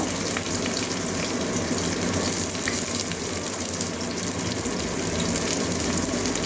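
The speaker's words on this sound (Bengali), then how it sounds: "এবারে একটা মিডিয়াম সাইজের পেঁয়াজ আর কতগুলো কাঁচা লঙ্কা একসঙ্গে ভেজে নেব।" Medium onion and green chillies frying together in hot oil, a steady, even sizzle that holds at the same level throughout with no voice over it.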